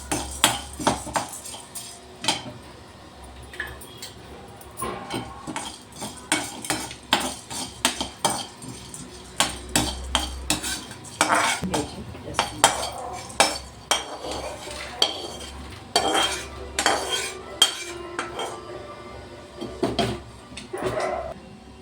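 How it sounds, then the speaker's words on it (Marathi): A metal spoon scrapes and clinks steadily against a pan as roasted gram dal is stirred and dry-roasted, producing a near, continuous rattle of taps and scrapes with no talking. "यामध्ये थोडी फुटाण्याची डाळ भाजून घेऊया"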